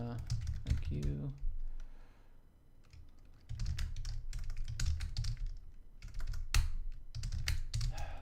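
Computer keyboard typing in bursts of clicky keystrokes, with pauses between runs, close and fairly loud; someone talks briefly near the start.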